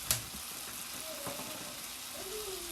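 Asparagus frying in a pan alongside a T-bone steak dinner, a faint, steady crackling sizzle with a sharp clink at the start and a few soft tonal squeaks, no talking.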